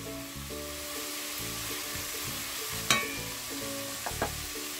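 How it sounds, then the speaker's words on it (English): Onions and carrots stir-frying in a pan, a steady close sizzle with scraping stirs and a couple of sharp clacks of the utensil against the pan. "I'm going to stir fry them until the onion is translucent."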